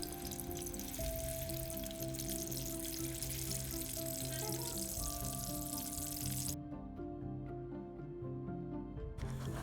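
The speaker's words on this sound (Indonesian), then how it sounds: "Selanjutnya, goreng telur rebus sampai kekuningan." Peeled boiled eggs fry in oil in a nonstick pan, a steady close sizzle and crackle running the whole time with a brief clatter partway through.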